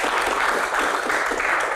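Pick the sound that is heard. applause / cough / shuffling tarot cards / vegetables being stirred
applause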